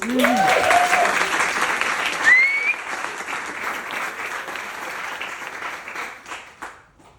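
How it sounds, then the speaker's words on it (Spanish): A festival audience at the Celsius 2023 book event applauds an award-winning youth novel, strong clapping at first, with a voice briefly heard early on, then gradually thinning and fading out. "Así que otro aplauso, por favor."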